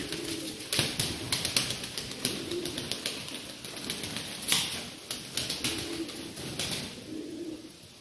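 Smoky male tumbler pigeon cooing in repeated low rolling phrases, with rapid clicking and rustling close by, moderately loud with no speech.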